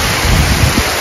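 Rain gusts in over an outdoor meal in rural U Minh, a loud, dense wash of hiss and rumble with no pauses, close and filling the brief moment.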